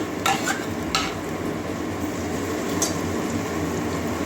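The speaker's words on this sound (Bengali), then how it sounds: "এটা কাঁচা গন্ধ যাওয়া পর্যন্ত ভেজে নেবো" Ginger-garlic paste fries with browned onions in a pan, giving a steady close sizzle, with a few scrapes of a spoon stirring near the start.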